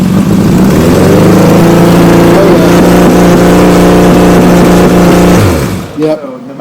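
A Suzuki Bandit 1200 motorcycle idles high and steady, a loud, close, even engine drone holding constant for several seconds before cutting out abruptly near the end.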